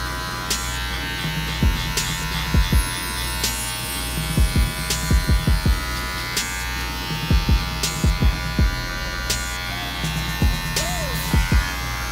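Electric hair clippers buzz steadily and close up throughout a haircut, with repeated short clicks and knocks from the lever and comb over the constant drone.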